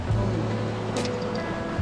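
Mountain stream flowing beside a hiking trail near the GR route on a tour of the Pic de Tracens lakes, a steady close rushing wash of water filling the short stretch with no talk.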